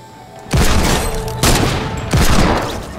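Three loud hand cannon shots from Fortnite Battle Royale, each a sharp booming blast with a long rumbling tail, spaced about a second apart over a low hum of game ambience.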